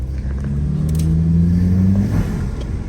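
A Saab 9-3 turbo engine fitted with a pod filter runs steadily close by, a low rumbling drone with a rising tone as it revs, then easing back; no one speaks.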